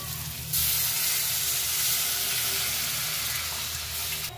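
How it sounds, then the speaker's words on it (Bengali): Water poured into frying masala for an egg curry hits the hot pan with a loud, sudden hiss that settles into steady close-up sizzling and bubbling. "জল দিয়ে দিলাম পরিমাণ অনুযায়ী"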